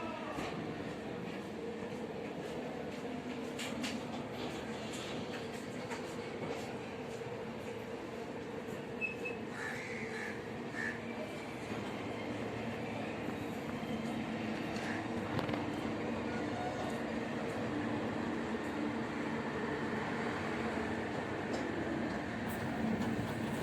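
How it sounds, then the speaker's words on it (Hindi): The Jaynagar Express from Kolkata rumbles along steadily after leaving Barauni station in India, a continuous rolling roar with faint wheel clatter heard from inside the carriage for the whole stretch. "बरौनी स्टेशन से ट्रेन छूट गई है।"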